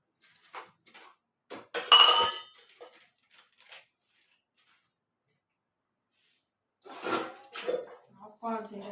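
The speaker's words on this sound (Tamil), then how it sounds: "இந்த பாத்திரம் கழுவி தாங்க நம்ம ஓஞ்சு போயிடும்" Dishes, pots and pans clatter during washing in a home kitchen, with sharp metallic clinks and scrapes in scattered bursts, some close and bright, separated by quiet gaps, alongside a voice.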